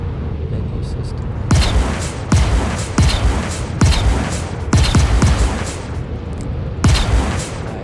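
Gunfire in the space game Star Citizen: several loud, sharp shots in uneven bursts, each with a booming tail, over a steady background rumble.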